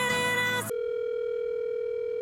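A phone call's ringing tone: a steady unbroken tone holds for about a second and a half after a brief burst of louder sound at the start, with no voices.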